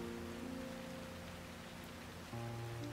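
Steady rain falls at night in a drama scene, a soft, even hiss that runs through the whole moment beneath sustained musical tones that shift near the end.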